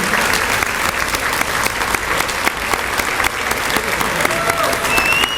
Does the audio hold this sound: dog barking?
no